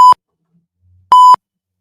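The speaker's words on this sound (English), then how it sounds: "I guess I need to pre-watch that so I can beep or try to beep it out." Two identical short censor beeps, each a pure electronic tone lasting about a quarter second, sound loud and clean with near silence between them.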